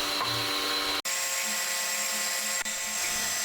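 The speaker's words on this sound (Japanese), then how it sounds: "センタードリルの1、2目が終わったら本番用のドリルで穴を開けていきます。" A high, whining drill runs continuously at close range, boring holes into a metal intake manifold for a motorcycle engine, its steady buzzing tone briefly cutting out twice before resuming.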